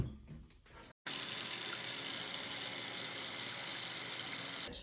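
A kitchen tap runs steadily for handwashing, a loud continuous close gush of water into a sink starting after a brief pause and flowing without break.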